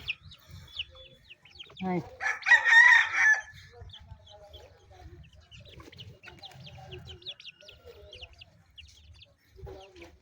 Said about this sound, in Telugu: కోళ్ళు వచ్చినాయి, మాయ కోళ్ళు.